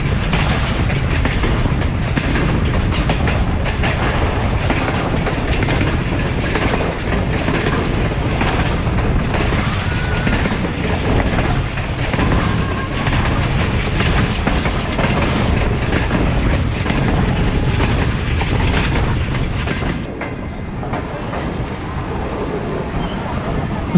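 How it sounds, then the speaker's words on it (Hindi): The Allama Iqbal Express rumbles loudly and continuously as it runs into Narang station, with a rhythmic clickety-clack of wheels on rail joints. The roar eases slightly near the end as the train slows on its approach. "लामा इकबाल एक्सप्रेस नारंग में एंटर हो चुकी है और नारंग स्टेशन पे स्टॉप करने के लिए अप्रोच बना रही है"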